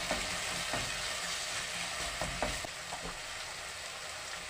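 Bolognese sauce sizzling in a pan, a steady low frying hiss broken by a few soft scrapes and knocks of stirring, close and quiet with no talk.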